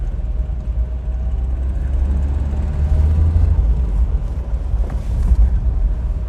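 A car drives along a sandy beach at the northern tip of New Zealand, its low engine rumble steady and close, mixed with wind and road noise throughout.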